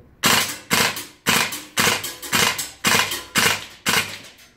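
A VFC Cybergun SCAR-H gas blowback airsoft replica fires nine sharp, evenly spaced shots, each a loud crack with a metallic bolt clack, in a steady rhythm with no talking.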